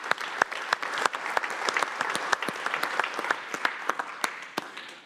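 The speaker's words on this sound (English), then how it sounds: "Let's have a round of applause for each one." An audience claps for finalists at a safety and training awards ceremony: steady, fairly close applause with a few sharp, distinct claps standing out, fading slightly toward the end.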